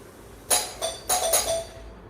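A household doorbell rings in a solo stage play, giving a few bright chime tones over about a second and a half that then fade into quiet.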